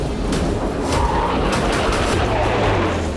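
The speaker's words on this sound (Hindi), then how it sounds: "फायरिंग कर रही है और उसी फायरिंग को TV9 के कैमरे पर हम कैद करने की कोशिश कर रहे" Taiwanese army gunfire rattles through a live military drill, with sustained dense bursts and booms that blend into a continuous loud din with no clear gaps between shots.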